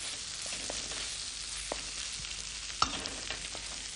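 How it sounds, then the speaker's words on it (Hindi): Finely chopped tomatoes fry in a spice masala, giving a soft, continuous sizzle with scattered spoon clicks and one sharper knock against the pan, moderately faint and without talk. "इसके अंदर हम डालते हैं टमाटर, बारीक कटे हुए टमाटर, और इसे भी भूनेंगे इस मसाले में हम।"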